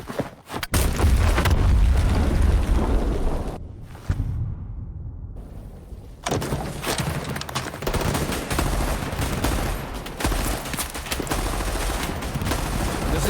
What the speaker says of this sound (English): Yeah, it's definitely post-apocalyptic sounds. 0-1 to all units. Bombs are going off.